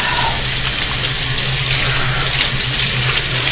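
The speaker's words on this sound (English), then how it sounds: "Let me rinse my hands off." Hands rinsed under a running kitchen tap, a loud steady gush of water splashing into the sink, close and continuous with no talk.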